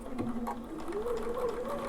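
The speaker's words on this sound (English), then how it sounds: "we're just going to stitch using our blind hem stitch" A Bernina 590 sewing machine with blind hem foot #5 stitches a blind hem: a quiet, steady motor hum with a soft, fast needle rhythm throughout.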